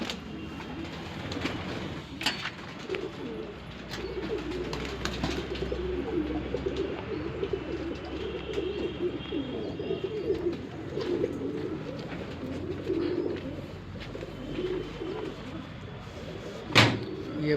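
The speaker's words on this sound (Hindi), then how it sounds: "काली आँख के हैं, काले कबूतर" Shahjahanpuri pigeons, black-eyed black breeding pairs, coo steadily in a loft, a low continuous murmur of cooing with a few sharp knocks and a louder bang near the end.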